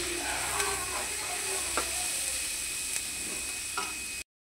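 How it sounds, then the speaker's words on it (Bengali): Fish coated in turmeric, salt and chili powder frying in a pan, a steady close sizzle with a few sharp clicks of stirring, no voices, ending abruptly. "ভালো করে ভেজে নেব"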